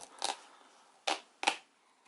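Three sharp crinkling, papery bursts as the packaging of a 2019 Razer BlackWidow keyboard box is opened, separated by short quiet gaps, close and distinct.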